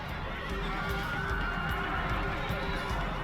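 Horses neigh and whinny amid the rumble of a cavalry battle in Total War Rome Remastered, with hoofbeats under a dense, loud, continuous combat din.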